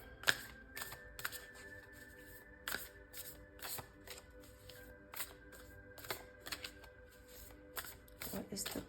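Oracle cards being shuffled by hand: a run of crisp, snapping riffles and soft card slaps repeating irregularly, close and fairly quiet, with no voice over it.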